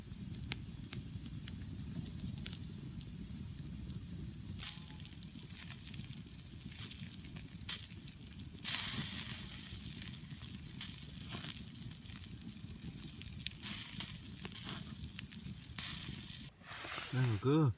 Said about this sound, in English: Just done the first turn of the burgers and they are looking sexy.